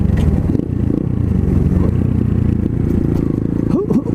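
An Apollo 250cc dirt bike's engine drones loudly and steadily while ridden, with rattling and scraping over rough ground and a voice briefly over it near the end.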